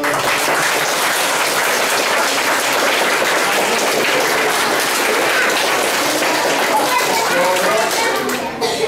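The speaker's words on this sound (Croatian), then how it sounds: "Hajde jedan malo aplauz za njih." An audience at a children's aikido and jujutsu belt exam in a club hall claps loudly and steadily, a dense and sustained round of applause lasting several seconds.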